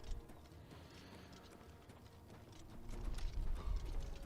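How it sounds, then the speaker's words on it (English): Horse hooves in the video game Oblivion Remastered: faint, rapid clip-clop of a galloping mount with soft mechanical clatter, swelling louder toward the end. "This is worse than horse Skyrim parkour."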